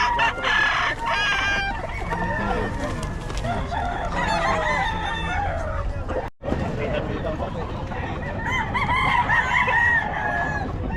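Chickens at a poultry buyers' market cluck steadily while a rooster crows loudly several times, all close and under ongoing conversation.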